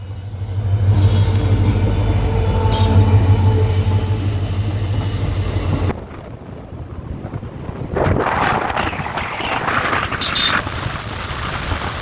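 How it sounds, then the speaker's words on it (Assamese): A train approaching on the Deohati railway line, a loud rumbling roar with wheel squeal, buffeted by heavy wind noise on the microphone, then a rougher rattling passage of cars. "দেওহাটী ট্ৰেইন লাইনত এয়া হৈছে ট্ৰেইন আহি আছে"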